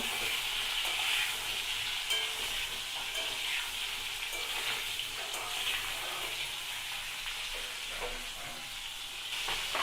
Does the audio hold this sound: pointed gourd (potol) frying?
yes